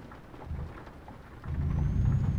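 Steady rain with a low rumble of thunder in a Euro Truck Simulator 2 storm, the wash of rain swelling louder midway through and continuing without any talk.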